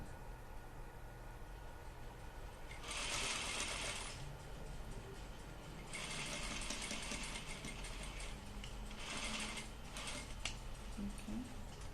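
A sewing machine back stitches along the folded edge of a sleeve placket, stitching in three distinct bursts of steady mechanical whirring separated by short pauses, close and fairly quiet.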